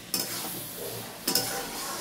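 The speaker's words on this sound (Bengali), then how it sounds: "এবার একটু কাঁচা সর্ষের তেল দিয়ে দেবো। দিয়ে একটু নাড়াচাড়া করে দেবেন" A spoon stirs bottle gourd greens and shrimp in mustard oil with a soft, steady scraping and light sizzle, plus two sharper clinks against the pan.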